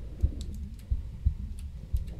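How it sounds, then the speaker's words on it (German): Lara's heartbeat thuds underwater in Tomb Raider II, soft low double beats repeating steadily about every second and a half, faint and alone under a quiet murky ambience. "Ihr hört schon Laras Herzschlag"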